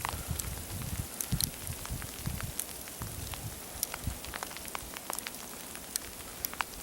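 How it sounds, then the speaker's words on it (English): Sleet patters and ticks through trees outdoors during a North Carolina snowstorm, a steady fine rain-like hiss scattered with sharp individual pellet clicks, moderately close and fairly quiet. "Now it's turned to sleet. I can hear it in the trees."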